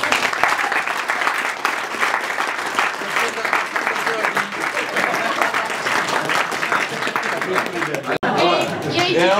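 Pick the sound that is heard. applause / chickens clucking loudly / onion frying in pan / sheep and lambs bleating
applause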